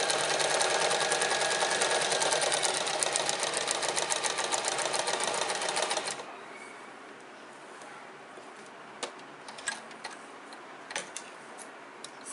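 A sewing machine stitches a macrame phone pocket in a dense, rapid stream of loud mechanical clatter for about six seconds, then stops, leaving faint scattered clicks and handling noise.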